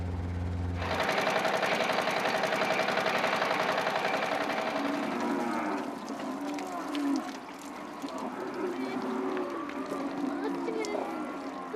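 A low helicopter whirring gives way to cattle lowing and mooing at a distance as they are mustered to the yards, several overlapping calls over a steady background hum.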